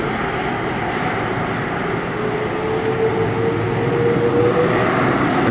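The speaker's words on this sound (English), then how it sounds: "Virgin Atlantic, an Airbus A330-300." A Virgin Atlantic Airbus A330-300 at Atlanta Hartsfield airport spools up its jet engines, a loud, steady roar with a rising whine held throughout.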